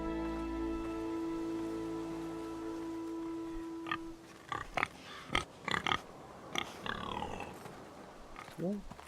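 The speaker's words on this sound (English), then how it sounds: "Pigs." Pigs in a Game of Thrones video game grunt and oink in short, close bursts scattered through the second half, following a steady tonal hum, with a person talking between the grunts.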